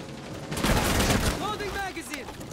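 A quick burst of several gunshots in a video game, loud and close, followed by a voice speaking over the fading in-game sounds.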